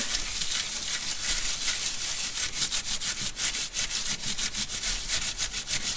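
Heat-treated toilet paper texture rubbed firmly by hand, producing a steady stream of quick, rhythmic, scratchy strokes, close and fairly loud, with no talking.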